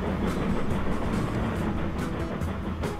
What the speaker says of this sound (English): you can hear both of the engines going at the same time